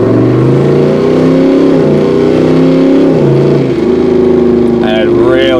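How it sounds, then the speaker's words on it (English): Toyota 70 Series fitted with a BMW 8-speed automatic, accelerating with a loud, steady engine drone that rises in pitch and drops at each hard gear change, with a voice talking near the end. "And it really shifts hard in those higher RPMs."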